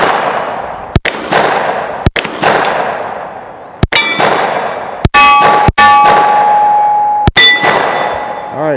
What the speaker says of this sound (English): let's go ahead and shoot this gun a little bit more. Try some of these steel targets at different ranges.